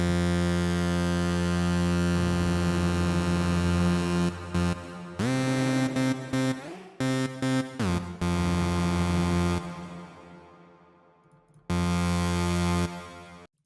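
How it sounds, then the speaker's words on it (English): A bright, buzzy saw-wave synthesizer lead in Massive plays sustained notes in short phrases, each ending in a lingering reverb tail, with no voices. "So now we have a big lead. It's a big saw lead."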